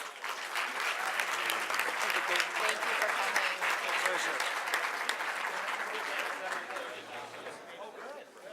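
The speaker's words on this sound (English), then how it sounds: "Let's give them all a round of applause." Sustained applause from a forum audience for the 2009 Minnesota gubernatorial candidates, a dense steady clapping that holds at an even level throughout, with crowd voices faintly underneath.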